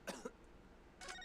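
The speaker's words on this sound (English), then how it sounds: "Maybe they could have had one extra coughing sound." Character coughing in The Great Ace Attorney video game, two short raspy coughs followed by a brief throat-clearing burst, close and quiet.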